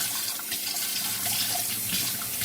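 Tap water pours steadily into a strainer of sea moss being rinsed, a continuous close splashing rush with no voices.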